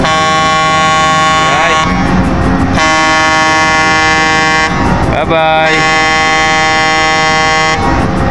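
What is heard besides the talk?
ship horn honking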